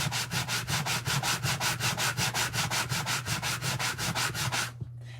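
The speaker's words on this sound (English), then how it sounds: "So I'm just going to start sanding it." Wooden furniture is sanded by hand in fast, steady back-and-forth strokes, a loud rhythmic rasp of about twenty even passes up close that stops abruptly just before the end.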